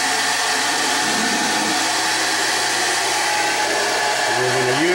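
A hair dryer blows on a clay pottery handle in a loud, steady whoosh with a constant motor hum, close by and uninterrupted, with no talking.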